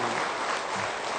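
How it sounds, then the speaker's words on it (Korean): Audience clapping in applause during a Buddhist monk's dharma talk, a dense steady burst of many hands lasting the whole moment. "좋으면 박수를 한번 쳐야지요"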